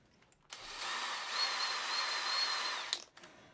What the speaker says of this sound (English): So what we're going to do is pre-drill this once again.